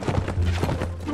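Hooves of a horse galloping in the video game Mount and Blade: Warband, a steady rapid clip-clop that runs through the whole short moment amid other game sounds.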